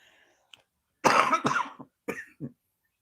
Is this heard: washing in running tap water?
no